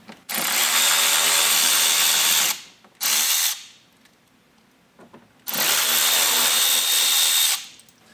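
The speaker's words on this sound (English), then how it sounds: "We're going to remove those screws using our T15 Torx." A power driver with a T15 Torx bit backs out factory screws on a 2023 Chevy Colorado ZR2, whirring loudly in three bursts: a long run, a brief pulse, then another long run after a quiet pause.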